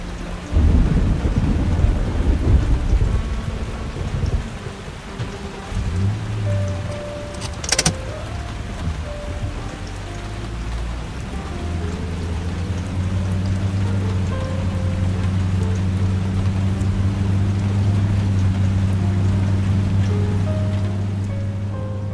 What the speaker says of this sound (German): Der Regen.